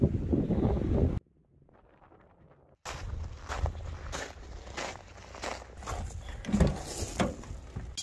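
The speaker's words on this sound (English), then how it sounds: "It's too windy to tell my story." Gusty wind buffets the microphone in loud rumbling bursts, breaking off briefly to near silence before roaring back.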